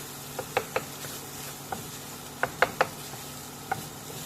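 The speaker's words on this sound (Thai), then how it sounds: "เอาข้าวที่เรา หุงไว้เนี่ย มาใส่ แล้ว ก็ผัด" Cooked rice being stir-fried with garlic and pork in a pan, a quiet steady sizzle under scattered sharp scraping clicks of a utensil against the pan.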